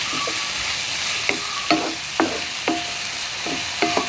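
Ginger garlic paste fries in hot oil for chole, a soft continuous sizzle with a few sharp scrapes of stirring and spoon taps at irregular intervals, close and moderate in level.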